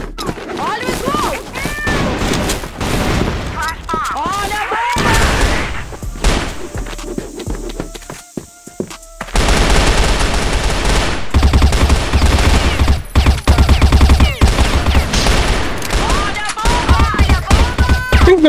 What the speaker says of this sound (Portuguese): Deu um tiro de op aqui, ó,